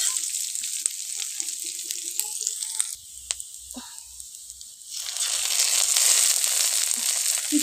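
Chopped onion sizzling in hot oil after five-spice tempering, a steady crackling fry that swells louder near the end, with scraping taps of a metal spatula stirring the pan.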